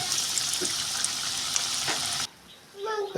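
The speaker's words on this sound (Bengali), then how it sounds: "এখন এটাকে তেলে ফ্রাই করা হবে।" Egg and potato chops frying in hot oil, a continuous close sizzle with a few knocks, cutting off abruptly near the end into quieter room sound and a brief voice.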